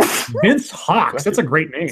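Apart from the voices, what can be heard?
sneeze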